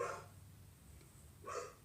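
A dog barks downstairs, two faint, distant barks separated by a quiet pause, heard from another floor of a house.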